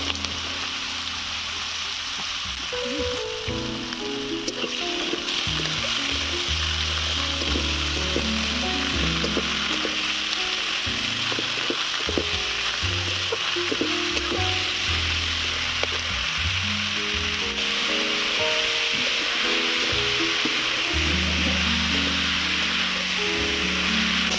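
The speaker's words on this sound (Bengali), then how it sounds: "এবারে বিটটা ভেজে নেব, তার জন্য দিয়ে দিচ্ছি সরিষার তেল" Washed beetroot fries in hot mustard oil with a loud, continuous close sizzle and crackle, broken by frequent scraping and stirring sounds throughout.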